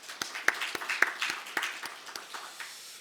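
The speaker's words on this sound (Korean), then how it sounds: "우리 수고하시는 선생님들 위해서 박수를 한번 격려하겠습니다" Church congregation at a Sunday morning service applauding the teachers, a fairly faint, sparse run of separate claps that thins out toward the end, heard from a distance.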